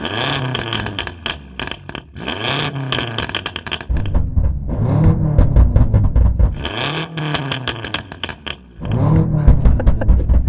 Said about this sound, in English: this BMW is also fitted with a noisier exhaust, so have a listen to this